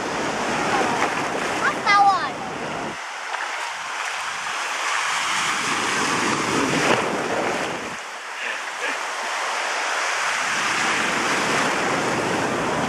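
Sea waves at a sandy beach in Nha Trang, a continuous loud wash of surf that swells and recedes in two long surges, mixed with wind noise and occasional voices.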